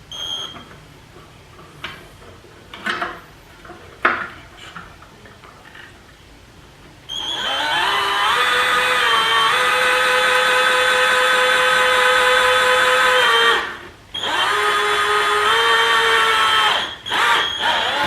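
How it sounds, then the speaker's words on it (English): A power drill cuts a notch into a Jeep JK panel, starting after some quiet handling clatter and whining steadily and loudly for several seconds, pausing briefly, then running again before stopping. "I think I can do it with my drill."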